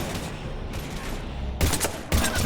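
Gunfire in Mass Effect 3, with a continuous rattle of rapid shots and then two louder, sharper bursts near the end, close and heavy, with no speech.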